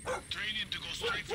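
Dog barking and yipping in the Far Cry 6 video game, a few quick excited yelps in close succession, heard under steady talk.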